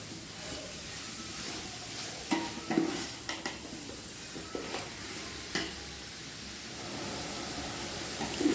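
Pallipalayam chicken being stirred in a pan over a high flame: a steady sizzle of frying runs throughout, broken by scattered scraping and clinking knocks of the spoon against the pan.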